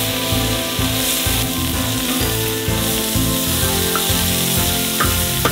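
Chopped vegetables frying in a pan before being stuffed into a Christmas turkey: a loud, steady, close sizzle with a continuous crackle throughout, alone without speech.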